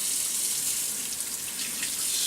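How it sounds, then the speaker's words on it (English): Cold water runs from a kitchen tap in a steady, close hiss that continues unbroken from start to finish, with no talking. "Turn on the cold water."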